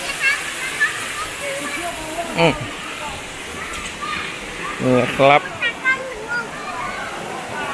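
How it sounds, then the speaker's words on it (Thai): A steady rush of falling water from Huai Mae Sai waterfall near Chiang Rai, Thailand, fills the background while someone speaks briefly and a few other voices chime in. "นี่ไงน้ำตกอยู่ตรงนี้อยู่ตรงหลืบนี่เอง"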